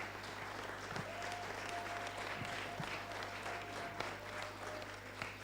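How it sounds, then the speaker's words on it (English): A crowd applauds steadily, a dense patter of many hands clapping at moderate volume for several seconds. "Clap for her"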